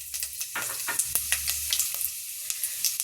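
Urad dal sizzles in hot oil during a tempering while a spoon stirs it, producing a steady close frying hiss broken by scraping strokes and small pops, with no talking.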